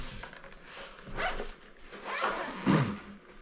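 A zipper is pulled around the carrying case of a Hohem iSteady Pro 4 gimbal, making a close, raspy run of zipping in several uneven strokes.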